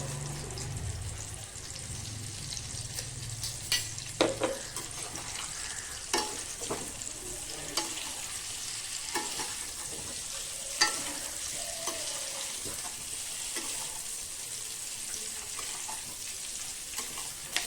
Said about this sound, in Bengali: তেলটা গরম হয়ে গেছে, এবার তেলের মধ্যে আলুগুলো দিয়ে একটু ভেজে নেব।